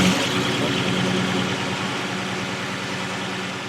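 A heavily cammed 489 big block V8 in a car, still breaking in, runs with a steady deep rumbling idle, loud and close, with no voices.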